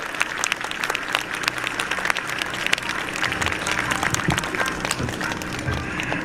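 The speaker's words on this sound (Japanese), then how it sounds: "伊藤姫と桑原姫に皆さん拍手を送ってやってください。" At a traditional Edo-era street procession festival in Tōjō, Shōbara, Hiroshima, a crowd applauds two young women's large-brush calligraphy with brisk, lively clapping that stays loud and even throughout.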